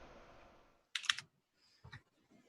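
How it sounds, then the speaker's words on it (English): Computer keyboards clack during a quiz round as players type answers: two short bursts of quick keystrokes separated by near silence. "I can hear the typewriters going."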